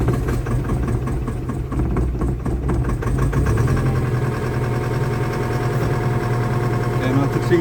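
CAT 206B excavator engine cranking and catching after a long idle, then settling into a rough, loud, steady diesel idle close by.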